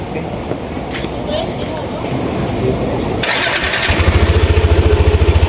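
A Yamaha Nmax 155 scooter with a faulty starting problem cranks and catches, its starter whir giving way to a fast, even idle that pulses steadily and close, with talk heard over the opening part.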